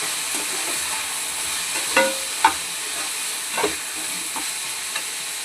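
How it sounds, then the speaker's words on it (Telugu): Tomatoes stirred and mixed in a pan for marmara bajji curry: a soft continuous sizzle with a few light scraping taps of the spoon, nearby and unaccompanied by speech. "ఈ టమాటాను అయితే మంచిగా కలిపేసుకోవాలి"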